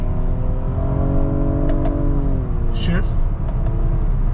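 A 2023 Nissan Maxima SR engine rising in pitch as it accelerates through the gears, a loud sustained drone with a brief dip at a shift, with someone talking over it.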